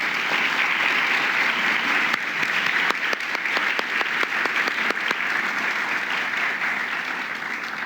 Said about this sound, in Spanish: Yo voy a pedir un aplauso para el doctor Soto.